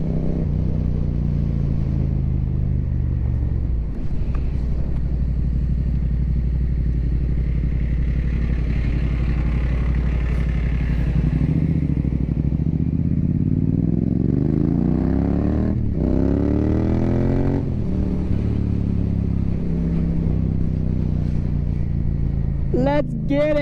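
A Yamaha MT-07 with an Akrapovic exhaust rides along with a steady, loud engine drone. The pitch rises and falls as it shifts and revs, and wind rush and road noise fill the background.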